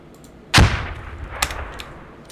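Grenade launcher in the game Squad firing a single round: one sharp, loud launch report followed by a decaying tail and a fainter distant thump, no talking.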